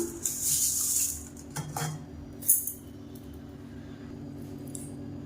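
Drained black urad dal is tipped into a mixer jar in a home kitchen, with a few sharp metallic clinks and scrapes of utensils against the jar, then quieter handling.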